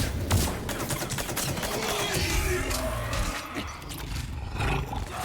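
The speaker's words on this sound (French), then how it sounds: "Putain, il est puissant ce petit pistolet." Pistol fire in the video game Mass Effect 3 comes as a dense, roaring barrage of booming shots and crackling impacts, loud and continuous, with no voice over it.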